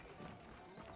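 Saddled horses clip-clop at a trot in Red Dead Redemption, a quick, faint run of hoofbeats lasting about a second, with a voice talking over them.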